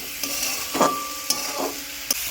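Mixed vegetables frying in a pan, stirred with a utensil: a low sizzle under a few distinct scrapes and clinks against the pan, spaced irregularly over a couple of seconds.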